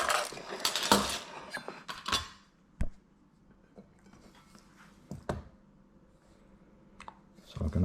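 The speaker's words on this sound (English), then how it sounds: "We're gonna start with the pork and cut it up." A knife cuts roast red pork into flat pieces on a board, giving a few scattered knocks and light scrapes with quiet gaps between, after a brief busier clatter at the start.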